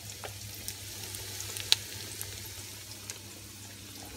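Borscht ingredients fry in oil inside a kazan, a faint steady sizzle with scattered small pops and crackles, quiet and close throughout.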